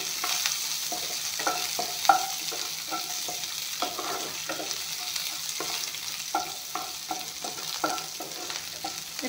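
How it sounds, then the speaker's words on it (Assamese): Onion, chilli, garlic and ginger stir-fry together in a hot pan, giving a steady loud sizzle with rhythmic scraping and stirring strokes throughout and no voices. "এইখিনি অলপমান ভাজি ল'ম।"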